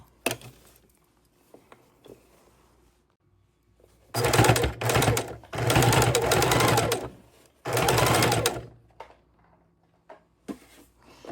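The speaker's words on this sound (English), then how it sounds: "Pull them down, and then I'm going to stitch the closing." Sewing machine stitching the closing of a fabric baking dish cover made with bias binding and elastic: three close, loud runs of rapid needle clatter separated by short pauses, with quiet handling noises around them.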